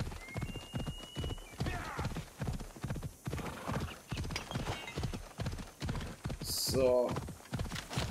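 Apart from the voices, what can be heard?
horse hooves galloping while riding in Assassin's Creed Odyssey video game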